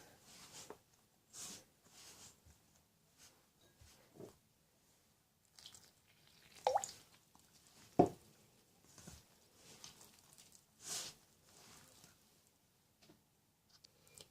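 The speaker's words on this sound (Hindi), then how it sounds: "ये मैं इसके अंदर थोड़ा थोड़ा सा वाटर ऐड कर रही हूँ और इसको मैं मिक्स करूँगी" Potato paratha dough is worked by hand in a bowl as water is added a little at a time, making faint, scattered wet squishes and soft slaps with quiet gaps between them.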